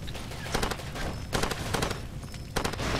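Rapid rifle gunfire rattles in the Far Cry 2 video game, dense bursts of shots over a continuous loud background of battle noise.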